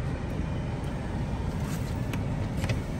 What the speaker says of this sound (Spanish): Ya el otro carro se nos pasó.